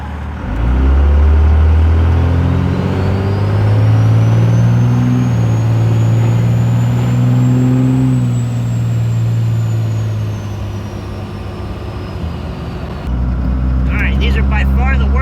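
A second-generation Dodge Ram truck fitted with a Carli 3-inch pintop suspension drives over rough railroad tracks, a loud, close engine drone rising and falling with road rumble, and a brief clatter near the end.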